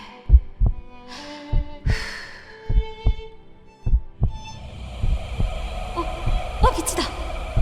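Regular, deep heartbeat thumps pulse at a slow, calm pace, mixed with eerie tonal whooshes and effects, while soft sounds build in the background toward the end.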